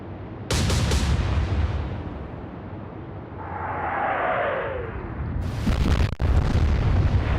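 A ship blows up in the naval battle game World of Warships, with a loud booming blast, a rumbling roar that rises and fades, then a second heavy explosion burst.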